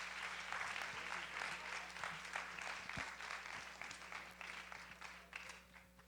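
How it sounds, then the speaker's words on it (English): Applause from a stand-up comedy audience fills the whole stretch, steady clapping that slowly thins out toward the end, heard from a distance. "one more round of applause for Will Sox"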